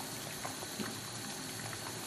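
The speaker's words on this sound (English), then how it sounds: "So there I have to cover the lid for the pot to boil" A covered pot of African meat saute simmers and bubbles, a soft, steady hiss with faint popping, close and alone.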